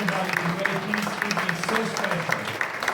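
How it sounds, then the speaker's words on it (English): Banquet audience at an award ceremony claps, a dense patter of hands beneath a speaking voice that continues over it. "Big round of applause to Mr. Spuli once again."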